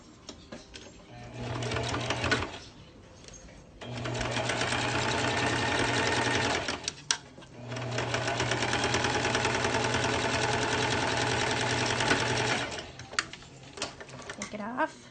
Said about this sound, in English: So I put it on the machine again, go right up.